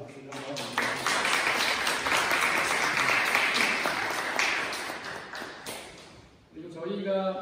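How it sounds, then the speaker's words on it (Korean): A church congregation applauds a senior deaconess, dense clapping that swells quickly, holds steady for several seconds and then fades, with a voice speaking at the start and end. "권사님께 박수를 한번 드립니다."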